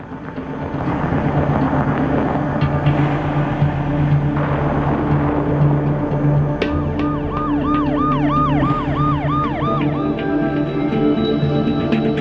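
An ambulance siren wails in a repeating two-tone sweep, starting abruptly partway through and cycling steadily over a constant low rumble of traffic or engine noise, with no talking.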